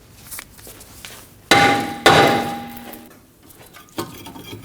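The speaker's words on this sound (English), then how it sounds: "you can use a hammer on the hub surface of the rotor" A hammer strikes the hub surface of a rear brake rotor on a Ford Edge twice in quick succession, each hit ringing with a metallic tone that fades slowly, followed by a lighter tap.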